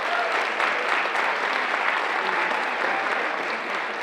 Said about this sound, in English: let's hit a big round of applause for our student athletes